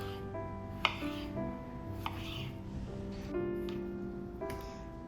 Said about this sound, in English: Then I'm just going to core the tomatoes and then quarter them.